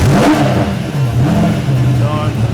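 An engine cranks and revs, rising and settling in pitch, loud and close, with a voice talking over it.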